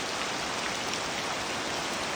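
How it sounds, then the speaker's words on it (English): Gentle rain falling on palm-thatched roofs in the Amazon jungle, a soft, even hiss of drops that stays steady and quiet without a break. "We'll listen to some rain."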